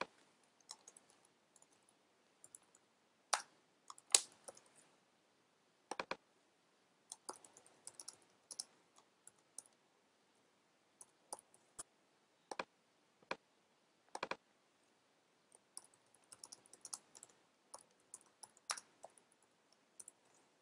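Quiet, sparse keyboard typing and mouse clicks on a computer, scattered taps in short irregular clusters with silent gaps between them and no talking.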